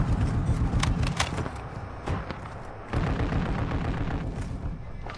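Sniper rifle shots in Call of Duty DMZ: a few sharp cracks stand out early, then dense, continuous gunfire and booming explosions rumble throughout at steady loudness, with no speech.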